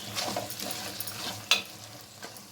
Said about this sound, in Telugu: ఈ విధంగా గోంగూర అంతా ఒకలాగా తెచ్చుకొని పప్పుగుత్త అట్లా కదిపితే సరిపోతుందండి.